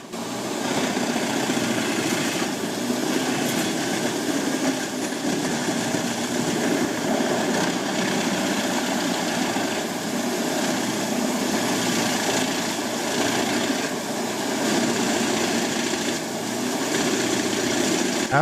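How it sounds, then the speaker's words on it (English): A Jinshem 700D wood chipper engine shreds large tree trunks with a loud, steady, continuous mechanical roar that holds for the whole stretch without pause. "The rasping sound of wood being shredded blends with the powerful engine noise, creating a vibrant and intense industrial symphony."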